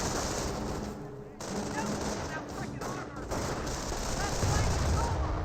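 Rifle squads open fire in a Company of Heroes battle, with continuous rattling gunfire and bursts of shots filling the scene, and a voice talking over it.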